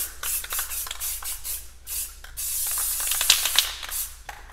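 A Rust-Oleum spray paint can hisses in short and longer bursts while paint goes onto an Earth and Moon artwork, close up. The sprays come in an irregular rhythm with brief pauses between them.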